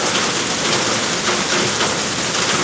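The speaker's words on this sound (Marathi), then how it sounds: "पण अचानक पाऊस चालू झाला" Heavy rain pours down steadily, a dense, loud hiss of drops hitting surfaces all around, with no voices.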